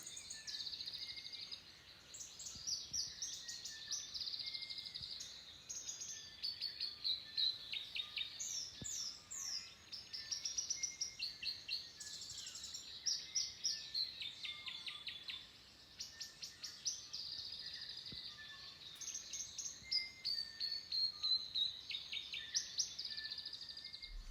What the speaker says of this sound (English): bird song is awesome.